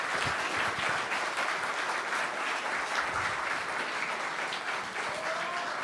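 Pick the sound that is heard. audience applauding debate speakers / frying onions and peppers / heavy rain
audience applauding debate speakers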